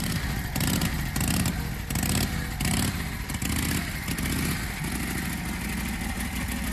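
A 1942 Harley-Davidson WL Type 1 from WW2 running: a loud, throbbing V-twin exhaust with uneven pulsing beats and brief revs, close by, continuing throughout.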